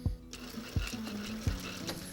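A sewing machine stitches binding on a down jacket, giving a close, steady motor whir with rhythmic needle thumps about every three quarters of a second.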